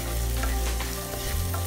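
Onions sautéing with a pinch of salt in a pan, a close, continuous sizzle with a low rumble beneath and light stirring scrapes, no voices present.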